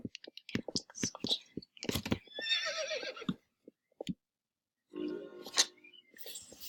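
A horse in a pony racing video game whinnies in short bursts, with chewing and crunching sounds and a few clip-clop hooves, loud and close, separated by brief silences.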